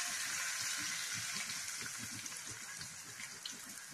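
Curry leaves and fresh coriander sizzle in hot oil on a lowered flame, a soft, continuous crackle and hiss that holds steady and eases slightly near the end.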